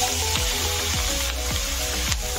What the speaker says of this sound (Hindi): प्याज आधी फ्राई हो गई है